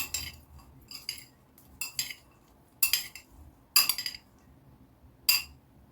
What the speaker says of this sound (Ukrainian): Перемішую фіники.